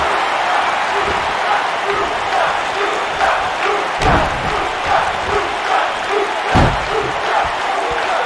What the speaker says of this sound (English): And he lands the slam.